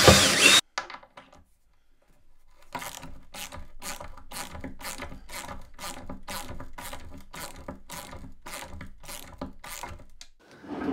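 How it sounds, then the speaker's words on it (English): A drill bores pilot holes and drives coach screws down into a mount, making a close, rapid, evenly repeated ratcheting whir after a brief loud start and a quiet pause. "I'm going to drill some pilot holes and get this bolted down."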